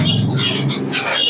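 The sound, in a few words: pigeons in a pigeon shop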